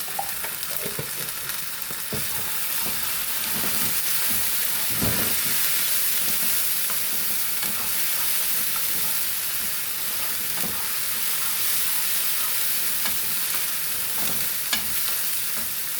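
Ginger-garlic paste sizzles and fries in a pan for a Kerala-style tuna dry curry, a steady close hiss with occasional stirring scrapes and pops running throughout.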